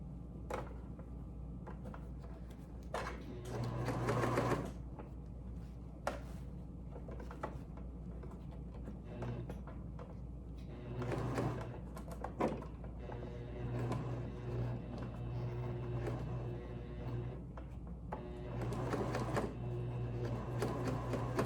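A sewing machine stitches the shoulder strap of a lined bridesmaid dress, running quietly in short intermittent spells over a steady background hum with small handling clicks.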